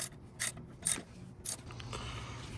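A ratchet clicks in three short sharp bursts while a bolt is tightened on the vacuum pump of a BMW 335i, close and crisp over a faint workshop background.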